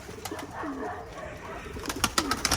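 Pigeons coo softly inside a coop, with low rolling calls close by and a few sharp taps and flutters toward the end.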